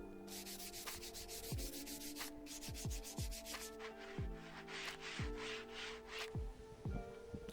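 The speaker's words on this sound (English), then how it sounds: "Then once dry, I gave them all a light sanding down." Light hand sanding of wooden lap joints on scrap fence lengths: steady rasping strokes repeat throughout at close range, broken by several sharp knocks, with no talk.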